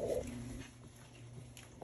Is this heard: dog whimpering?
yes